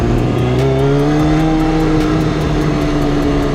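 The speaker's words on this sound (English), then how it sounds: "You can hear your exhaust note through the buildings echoing off back at you." A Yamaha R6 motorcycle's exhaust drones steadily among city buildings, with rising and falling engine tones that echo back off the walls.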